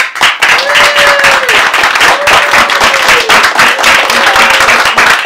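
Applause from the audience at a business club's fifth birthday spotlight show, dense steady clapping filling the room for several seconds while a voice carries faintly over it.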